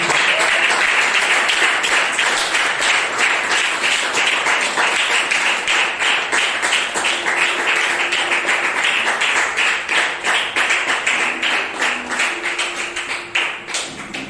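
A church congregation at a French-language prayer service applauds together, a dense, steady and loud clapping that holds for over ten seconds and then thins toward the end.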